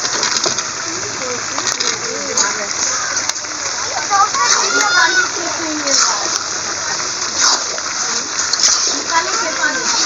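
Potatoes go into a pot of fried meat curry, giving a steady sizzle and crackle with splattery bubbling, while a person talks over the cooking.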